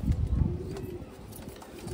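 A banded-tail female pigeon coos in low, soft murmurs close by, the throaty pulses strongest early and continuing steadily through the short stretch.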